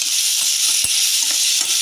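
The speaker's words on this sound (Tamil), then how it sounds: "கரம் மசால் பொடி, வத்தப்பொடி எல்லாத்தையும் போட்டு நல்லா மிக்ஸ் பண்ணிக்க போகிறோம்." Garam masala and chilli powder being stirred into a frying mixture for egg-stuffed idiyappam, a steady bright sizzle with soft spoon scrapes and one low knock, close and alone.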